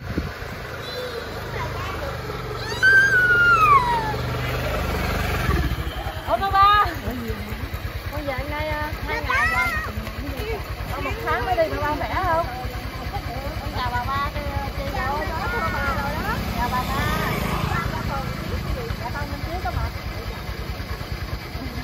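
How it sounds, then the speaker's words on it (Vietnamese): Motorcycle engine running steadily as a family rides along on a scooter in rural Vietnam, a continuous mid-level hum with road and wind noise, and people talking over it throughout. "Bây giờ ba Chi sẽ chạy xe máy chở hai mẹ con đi lên nhà ông bà nội."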